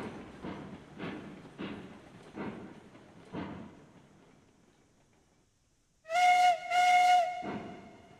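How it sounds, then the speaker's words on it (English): Steam train whistle in the Railroads Online video game: after soft chuffing and a quiet stretch, two loud, shrill blasts sound close up, the second one longer, followed by a fading hiss. "Sometimes I go to grab the whistle and I miss."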